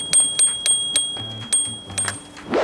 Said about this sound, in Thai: ตัวนี้เขามีกระดิ่งที่แฮนด์ด้านซ้ายด้วยนะครับ